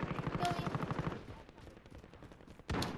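Rapid automatic gunfire in the video game Warzone, dense bursts of shots running throughout with a loud blast near the end, while players talk excitedly over it.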